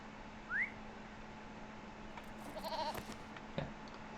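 A goat mount in the video game LotRO bleats once, short and clear, over a steady game hum. Faint whistle-like tones and soft clicks follow.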